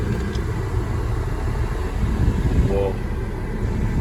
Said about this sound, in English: So I'm actually gonna drive this around the block real quick here.